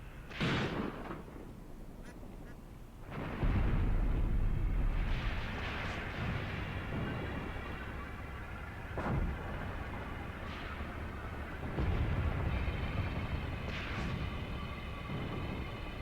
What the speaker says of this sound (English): the T-26 here got hit